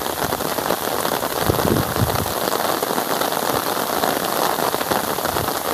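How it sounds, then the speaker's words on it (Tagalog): Heavy rain pours down steadily during an outdoor fishing outing, a dense continuous close hiss and patter with no pause. "Walang tigil ang ulan."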